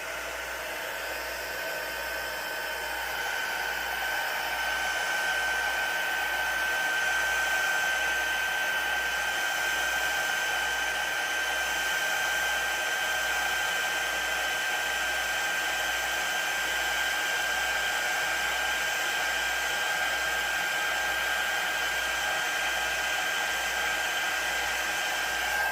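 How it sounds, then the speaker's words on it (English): Embossing heat gun running steadily close up, a continuous loud hair-dryer-like whoosh with a faint high whine, blowing hot air to melt embossing powder on a card, unbroken for the whole stretch with no talking. "So I have a heat tool here and that's going to help me heat up this and it's just going to melt it"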